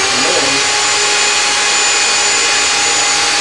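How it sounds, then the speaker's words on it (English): An electric drill runs continuously on an engine treatment demonstration rig, a loud, steady whine and hiss sustained throughout without pause. "We'll start up this drill, and then we'll bring down that arm"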